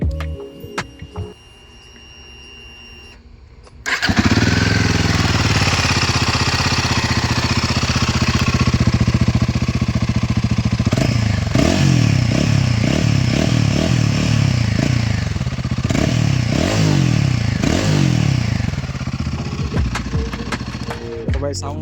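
A Royal Enfield Himalayan 450 motorcycle engine starts after a quiet moment and idles close by with a steady, throbbing rumble, then blips the throttle in several rising revs in the middle before settling back to idle.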